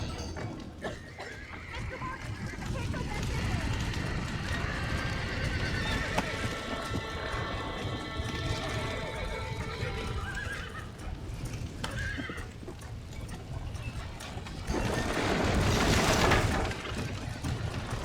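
Horses neigh and whinny in a burning barn in the Red Dead Redemption video game, with hooves clip-clopping and a roaring fire background, the calls repeating over steady commotion and growing louder near the end.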